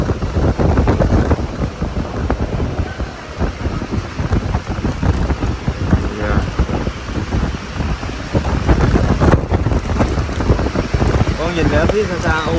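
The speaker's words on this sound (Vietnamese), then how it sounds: "Gió mạnh quá." Storm wind gusts hard around an apartment building during a thunderstorm, with rain lashing surfaces in a steady loud roar that surges and ebbs across the whole stretch, a voice talking over it.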